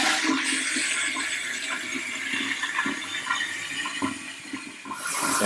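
A toilet flushes in a Mykonos, Greece home during an inspection, with a loud, steady rush of water that holds for about five seconds before tapering off into quieter refilling.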